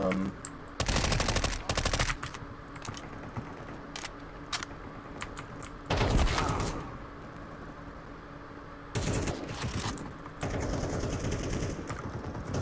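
Bursts of Counter-Strike 2 automatic gunfire come in three or four loud clusters separated by quieter stretches, with some faint talk underneath.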